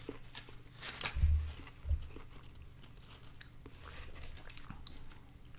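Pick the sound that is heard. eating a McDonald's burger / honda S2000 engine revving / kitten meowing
eating a McDonald's burger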